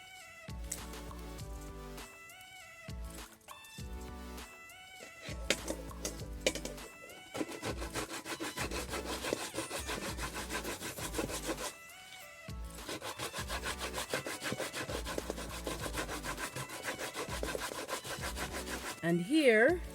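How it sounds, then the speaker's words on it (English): Avocado seed being grated by hand against a kitchen grater, a close, steady rasping scrape repeated in quick strokes with brief pauses between passes. "and then we will then grate the seed."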